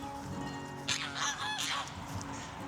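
Geese, currently shedding, honk in a few sharp, nasal calls close by, over a steady low background hum.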